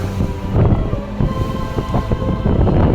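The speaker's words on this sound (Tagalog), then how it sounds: "Sa puntong ito ay biglang lumakas ang alon." Strong wind and choppy waves buffet a balangay boat sailing on the Pasig River, a loud, continuous rush of gusts against the microphone with splashing water throughout.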